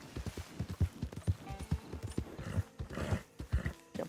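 Horse hooves gallop in Red Dead Online, a steady rhythmic clip-clop of heavy thuds that is moderately close and runs the whole time, with a faint snort or whinny partway through.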